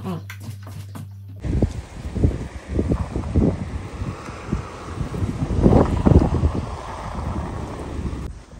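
Wind gusting after heavy rain has eased, a steady rushing roar with rising and falling gusts buffeting the microphone, loud and close, preceded by a brief low hum.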